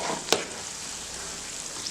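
Ridge gourd and tomato chutney fries in a pan with a soft, steady sizzle and one sharp tap of a utensil early on.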